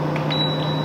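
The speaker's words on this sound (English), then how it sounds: "I was a fan of the beeping originally, and already I'm not too sure about the beeping." An air fryer oven gives a single sustained electronic beep that comes in partway through and holds steady over a constant low appliance hum, close and clear with no talk.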